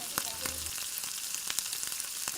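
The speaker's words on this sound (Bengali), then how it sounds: "এবার আদা রসুন একটু ভাজা হয়ে গেলে এর মধ্যে টমেটোগুলো দিয়ে দিতে হবে।" Tomatoes dropped into frying ginger-garlic paste with a little salt in a pan for a home-style chicken kosa, giving a steady close sizzle with a few sharp crackles and stirring scrapes, no voices.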